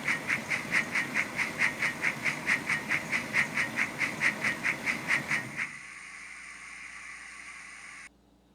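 Rhythmic chuffing steam exhaust from a Soundtraxx Econami DCC sound decoder in a Hornby 9F model locomotive, about four beats per second with steady hiss, then abruptly stopping and leaving a faint hum before silence.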